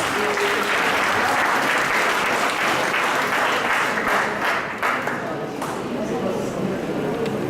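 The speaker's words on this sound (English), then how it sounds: "A round of applause, please" A conference audience applauds a speaker from UN Habitat being called up, a dense, loud, steady wash of many hands clapping that tapers slightly toward the end.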